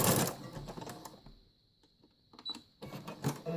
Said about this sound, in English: Nearing the top of the bag, I'm going to back stitch and sew on.